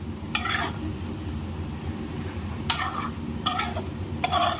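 Eggplant stirred in an oily masala thokku in a pan: a steady close sizzle broken by several brisk scraping bursts of a spoon, no talking.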